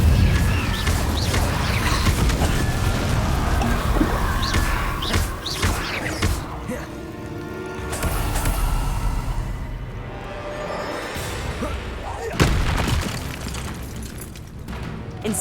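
Hogwarts Legacy spell combat, with the fiery Incendio spell cast again and again, giving dense booming bursts, crackles and crashes amid continuous battle noise, loud and close.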